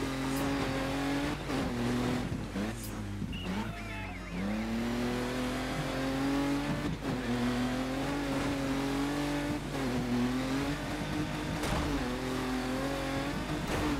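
A rally car in Dirt 3 drifts under a continuous engine roar that rises and falls in pitch, with short tire squeals and gear-shift dips, loud and close, and a faint voice in the background.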